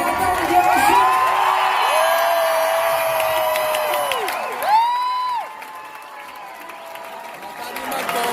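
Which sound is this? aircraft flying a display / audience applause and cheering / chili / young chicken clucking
audience applause and cheering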